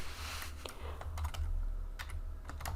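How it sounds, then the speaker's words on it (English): Typing on a computer keyboard produces quick, irregular clicks of keys at close range, fairly quiet, over a low background hum, with no talk. "in chapter 2 I'm going to write a little bit about Bob"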